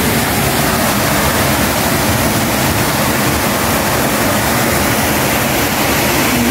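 Strong water rushes through a tunnel by a river, a loud, steady roaring wash with no break and no voices.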